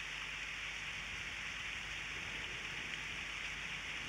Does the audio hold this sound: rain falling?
yes